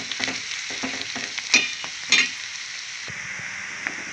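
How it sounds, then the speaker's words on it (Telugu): Bitter gourd pieces fry in a pan for a Telugu-style dry curry, giving a continuous close sizzle broken by a few sharper scraping stirs. "ముక్కలన్నీ ఫ్రై అయిపోతున్నాయి"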